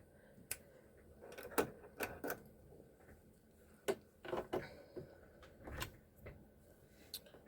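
A home sewing machine fitted with an edge stitch foot runs in short bursts, quick mechanical stitching clatter alternating with clicks and pauses, close and fairly quiet, with no talking.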